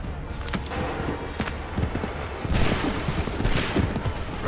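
A musket volley in the video game Assassin's Creed III crackles as a ragged burst of overlapping shots, with scattered hoof-like thuds and battlefield bustle around it, fairly loud and dense.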